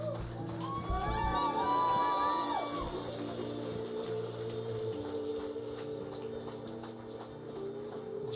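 A church congregation at a Sunday service cheering and acclaiming God, a broad crowd roar with whoops and raised voices over sustained music, strongest in the first few seconds and then settling into a steady wash of sound.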